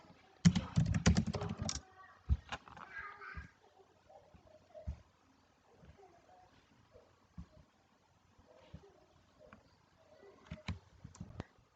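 Someone types the word barrister on a computer keyboard: a quick dense burst of key clicks, then scattered lighter taps and pauses, close and fairly quiet.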